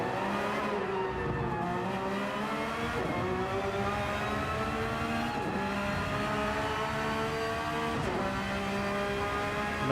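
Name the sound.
Porsche 992 race car engine on board, Gran Turismo 7 video game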